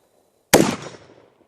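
A single sharp report from a 300 Blackout AR rifle build, loud and close, bursting out after a silent pause and ringing off over about a second.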